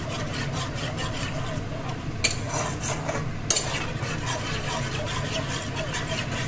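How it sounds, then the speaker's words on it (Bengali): Poppy seed and cashew paste stirred into cooked-down tomatoes in a pan for a Bengali okra dish, soft scraping strokes over a constant low hum with two sharp clicks, close and fairly quiet. "এখন আমি শস্য পোস্ত আর কাজু বাটাটা একসাথে দিয়ে দিব। এটাকে কষাবো।"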